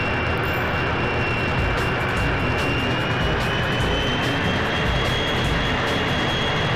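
Jet airplane engine in the 007 Racing video game, a loud, sustained roaring whine with a steady high tone over heavy broadband rumble, continuous and close throughout.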